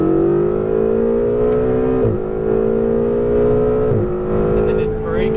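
A Ferrari 488 GTB engine drones loudly from inside the cabin at Las Vegas Motor Speedway, holding a steady pitch with brief dips at gear shifts while a Lamborghini runs close by on track.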